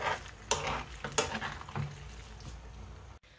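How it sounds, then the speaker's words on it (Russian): Pasta and mushrooms being stirred together in a pan, a few close sticky scrapes and clattering utensil knocks over a soft sizzle, ending abruptly. "Тоже хорошенечко все это перемешиваем."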